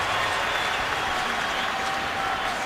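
Football stadium crowd at a Bengals at Browns NFL game in 2012 roars and applauds in a dense, steady wash of cheering that holds at full loudness the whole time.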